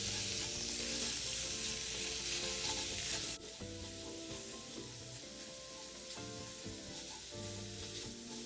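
Minced pork stir-fried in a wok with dried shrimp and garlic, a loud continuous sizzle with scraping stirs of the spatula throughout, no voices.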